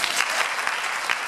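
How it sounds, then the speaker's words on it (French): An audience at an evangelisation event claps in a short burst of steady, close applause. "Il faut applaudir."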